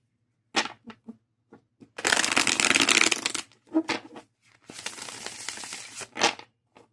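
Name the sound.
deck of playing cards being shuffled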